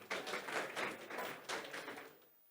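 An audience in a panel discussion on the future of water in the Dominican Republic claps briefly and fairly faintly: a short patter of applause that rises in two swells and then fades away.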